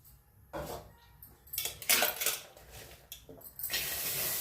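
Metal kadhai set down on a gas stove, a few clanks and scrapes of metal against the burner grate, near and irregular, with quieter shuffling between them.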